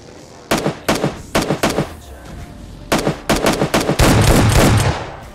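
Bursts of automatic gunfire from a mobile battle royale shooter, loud and close, firing in rapid volleys with short pauses between strings of shots, then a dense sustained stretch near the end.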